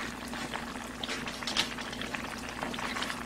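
Jjamppong seafood broth seasoned with oyster sauce and chili flakes boiling in a pot, a continuous soft bubbling and burbling with small pops, close but fairly quiet, no voices.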